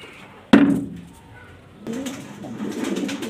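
A black Danish male pigeon gives a low, throaty coo that starts abruptly, fades, then a softer burst of rolling cooing follows, close and clear with no talk.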